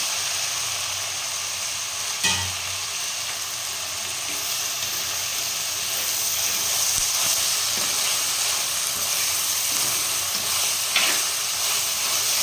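Prawn and drumstick curry mixture being stirred in a pan, a steady sizzle and hiss with a couple of sharp scrapes of the spoon, close and alone.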